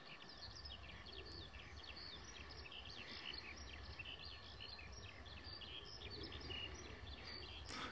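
Birds chirp outdoors in a quiet, peaceful natural setting, with small high twittering calls scattered throughout over a faint steady background hiss, fairly distant and soft.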